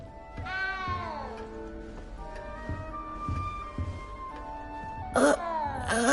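A frightened little cat in the video game Hogwarts Legacy meows several times, a drawn-out wail near the start and sharper cries near the end, over soft game ambience and music.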